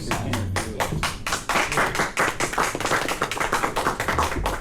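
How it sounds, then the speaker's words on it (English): Several people at a tech talk on Meshtastic radio clap loudly and close by, starting with a few separate sharp claps that quickly thicken into a brisk, busy patter. "You applaud him leaving?"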